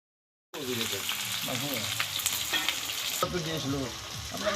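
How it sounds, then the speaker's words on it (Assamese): Goat meat frying and sizzling steadily in a pan during a Magh Bihu night feast, a continuous close crackle with stirring clatter and a brief scrape, no talk. "আমাৰ সৰু বাই মাংস বনাইছে পঠা মাংস"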